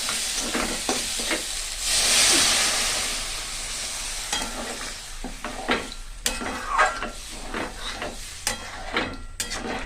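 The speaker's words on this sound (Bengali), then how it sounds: "তেল ছেড়ে দিয়েছে, এরপর জল দিয়ে দেবো।" Water is poured into a pan of sizzling oil and tomato-sauce masala, setting off a loud hissing burst that fades into a steady sizzle broken by spoon scrapes and taps.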